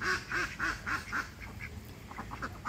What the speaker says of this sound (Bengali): দেখেন হাঁসগুলো কত সুন্দর করে পানির মধ্যে খেলা করছে